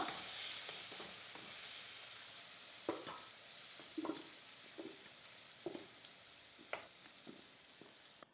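Steady frying sizzle of garlic and curry leaves with intermittent scraping and stirring clatters from a spatula in a pan, close up, no talking.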